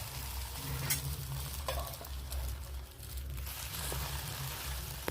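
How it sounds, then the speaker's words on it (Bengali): Beaten egg sizzles as it fries in a pan, a steady close hiss with occasional spatula scrapes and stirring, no speech. "ডিমটা ফেটিয়ে রেখেছি, এবার ডিমটা দিয়ে দিলাম।"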